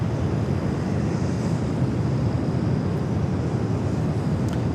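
An A320 airliner taxiing toward a south side takeoff at Los Angeles LAX airport makes a steady broadband roar that runs unbroken through the whole stretch, mixed with rushing wind noise.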